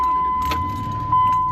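A pickup truck's ignition key turning in the cab, with light key jingle and the engine catching and settling into a steady idle, close and fairly loud throughout.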